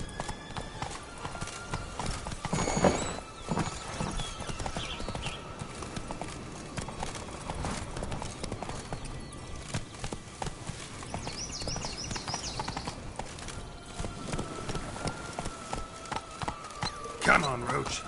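Roach, a horse in The Witcher 3: Blood and Wine, gallops with rapid, rhythmic hoofbeats against an in-game soundscape, and a brief neigh rises partway through.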